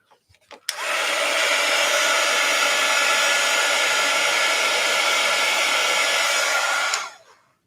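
Hair dryer blowing on wet paint on a journal page, switched on after a few light clicks and running as a steady loud whoosh for about six seconds before cutting off.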